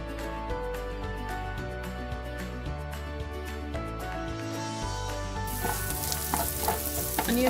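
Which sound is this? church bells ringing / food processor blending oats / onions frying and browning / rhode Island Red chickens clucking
onions frying and browning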